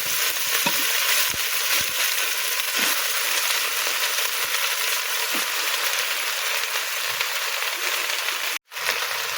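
Red amaranth greens fry in a clay pot, giving a steady, loud, close crackling sizzle with scattered soft stirring knocks and a brief dropout near the end; no voices.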